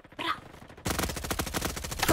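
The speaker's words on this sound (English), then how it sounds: "I'm just gonna start spamming nades everywhere and hope one hits you" Grenades exploding in a Roblox video game, a rapid, loud burst of repeated blasts after a brief quieter lead-in, continuing densely to the end.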